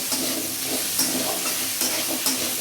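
Onions with salt fry in a pan for raw papaya sabji, a steady loud hiss and sizzle broken by soft scraping strokes of a spoon stirring, close up with no talking.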